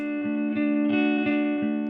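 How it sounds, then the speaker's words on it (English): A music track processed through Ableton Live's Echo delay with vibrato-style modulation, giving sustained wavering tones with rhythmic repeating pulses about every third of a second. "We're gonna turn on Echo, put it on time, and let's do 10 seconds so we can modulate that back and forth"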